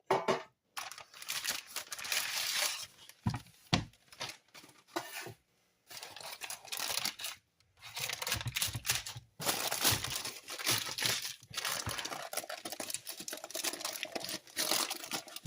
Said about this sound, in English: I put it in a gallon-sized Ziploc bag